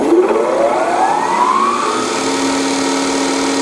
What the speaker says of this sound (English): we'll power up the high-speed spindle portion of it